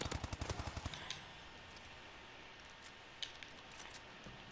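Rapid automatic gunfire from an unfamiliar weapon in Call of Duty: Black Ops 3, a quick burst of shots up front, then quieter scattered shots and game noise.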